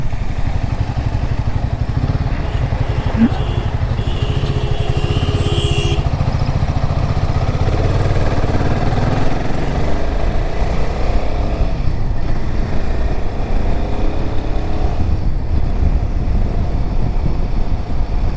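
Royal Enfield motorcycle riding along a highway on a solo trip, a steady loud engine drone with wind rush throughout, another Royal Enfield bike passing nearby at moments, no talking.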